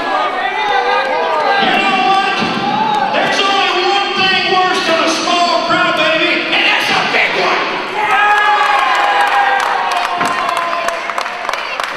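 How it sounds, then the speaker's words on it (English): A wrestling arena crowd loudly boos the Giant Darko throughout a match with the Honky Tonk Man, a dense, sustained roar of voices with jeers and shouts, briefly dipping before swelling again. "The crowd booing Darko heavily here."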